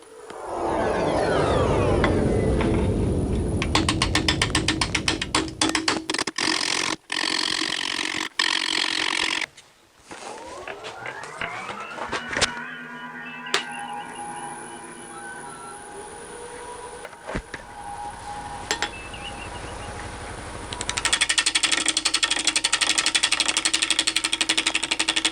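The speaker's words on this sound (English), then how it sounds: "Starting off with a 5/8 inch bowl gouge." Magnolia bowl spinning on a wood lathe while a 5/8 inch bowl gouge cuts, with scraping tool noise, changes in pitch and brief pauses between passes, fairly close and alone without talk.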